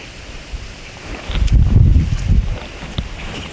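Wind gusting across a river during float fishing for roach and rudd on the Uzh, a low rumbling buffet that swells in the middle and eases off, close to the microphone.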